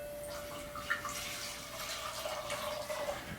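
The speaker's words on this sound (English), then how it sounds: "We're gonna add 2 cups of red wine vinegar." Red wine vinegar is poured into a pan already holding salt and water for pickled beets: a steady, faint, continuous liquid splashing and trickling with no talk.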